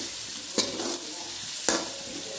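Onion, ginger and green chili sautéing in oil for a Kerala prawn roast, a steady close sizzle broken by two sharp spatula stirs scraping the pan.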